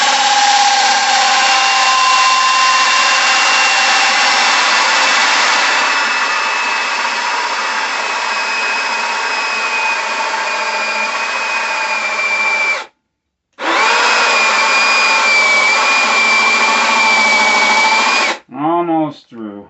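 A power drill whines steadily and loudly for about thirteen seconds, stops briefly, then runs again before cutting out with a few short bursts.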